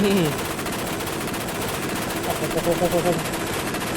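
A turbocharged golf cart engine popping and crackling like rapid gunfire, loud and close in a continuous rattling barrage, with a voice talking over it.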